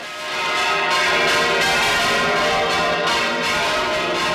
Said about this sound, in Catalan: la nostra passió és tocar les campanes